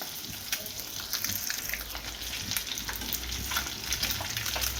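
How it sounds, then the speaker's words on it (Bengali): Several eggs fry in a pan while being stirred and turned, giving a steady close sizzle and crackle with scattered pops and spatters throughout. "এভাবে আমি একটু নাড়িয়ে চাড়িয়ে উল্টো পাল্টা করে ফ্রাই করে নিব।"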